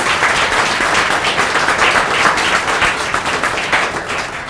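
A crowd applauds steadily, a dense, even patter of many hands clapping at once that continues throughout without pause.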